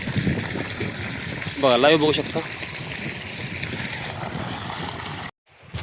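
Water gushes steadily from the outlet of a Shakti solar pump working against a 70-metre head, a loud continuous rushing that runs under a voice and cuts off abruptly near the end.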